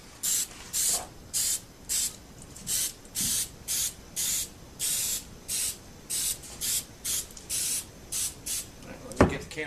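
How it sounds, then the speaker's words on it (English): An aerosol can sprays a tarp in about twenty short, evenly paced hissing bursts, close and steady, ending with a sharp knock. "we're going to get to spraying now"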